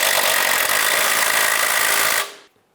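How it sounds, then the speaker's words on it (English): A power tool tightens bracket bolts inside the wheel well of a 2011-2018 Volkswagen Jetta during water pump and timing belt work, a loud, close, harsh whirring burst lasting about two seconds before cutting off abruptly. "make our way back into the wheel well and start snugging up the rest of this bracket"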